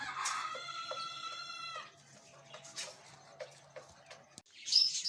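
A sick rooster crows loudly up close, its long harmonic call lasting about two seconds, followed by scattered clucks and bird chirps over a low background hum.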